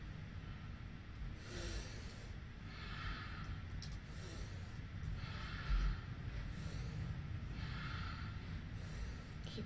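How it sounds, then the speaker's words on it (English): Powerful rhythmic breathing through the nose during a yoga exercise: repeated forceful nasal breaths with airy snorting bursts at a steady pace, close and fairly quiet, with no talk. "Powerful breath through the nose."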